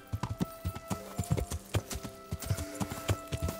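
Horse hoofbeats while riding in Kingdom Come: Deliverance, a steady rhythmic clip-clop of a trotting horse, close and clear, with a faint creak of tack behind it and no talk.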